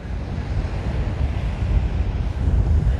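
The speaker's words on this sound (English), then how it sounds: "Boy, the wind is just ripping right now." Strong wind blows at Lanikai Beach on Oahu, a steady loud roar and rumble buffeting the microphone for the whole stretch, with possible surf underneath and no talking.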